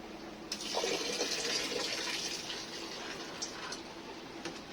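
Salty water drained off chopped banana stem that had been rubbed with salt, pouring out as a steady, fairly soft gush of liquid that carries on for several seconds without a break.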